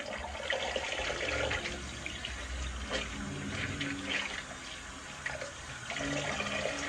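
Tap water runs steadily into a sink for a shaving rinse, a close, continuous splashing stream with small shifts in flow and no talking.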